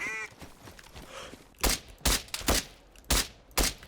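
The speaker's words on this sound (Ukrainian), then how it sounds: "по мені спину стріляють" Gunfire in an online multiplayer shooter game, six sharp loud shots in a rapid uneven string following a brief quieter stretch with faint background sound.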